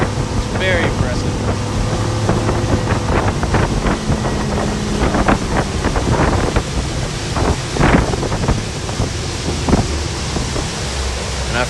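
A 2021 Regulator 26xo boat powered by a Yamaha 425 XTO outboard runs at speed during a sea trial, its engine roar mixed with heavy wind buffeting on the microphone and rushing water.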